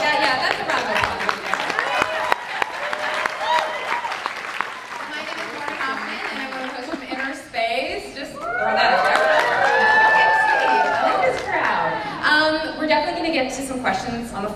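Applause and cheering from a large audience at a fan expo panel, building into a loud sustained wash of clapping with whoops and crowd noise, fading slightly toward the end.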